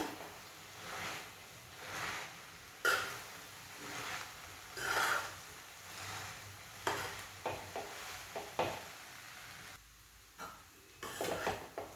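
A spoon scrapes and turns tomato rice in a pan on a low gas flame, giving soft rhythmic stirring scrapes and light clatters over a faint background sizzle, close and fairly quiet.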